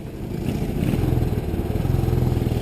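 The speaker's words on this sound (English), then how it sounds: "Rev matching this bike is one of the toughest ones I've ridden so far" A 2019 Royal Enfield Classic 500 single-cylinder motorcycle being ridden, its low engine thump pulsing steadily and growing slightly louder over a few seconds, close and without talk.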